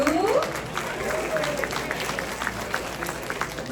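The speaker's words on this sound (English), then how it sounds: "another round of applause for Fei Fu." An audience at an award ceremony applauds with a steady wash of clapping at moderate volume, while a voice briefly speaks over the start.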